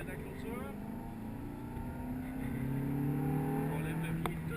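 A Ferrari F430 Scuderia accelerates on a track, its engine pitch rising in a strong, steady drone heard from inside the car, with a voice speaking over it.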